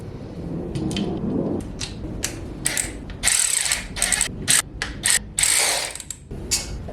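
Ratchet driving coil pack bolts back into an engine, rapid clicking pawl bursts starting quietly and growing louder and choppier, close up with no talk.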